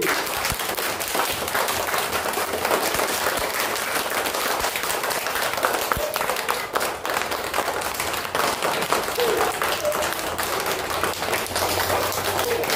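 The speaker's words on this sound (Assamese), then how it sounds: "তালি মাৰা তালি" A group of school students clap their hands in sustained, dense applause throughout, fairly close and steady, with faint voices mixed in.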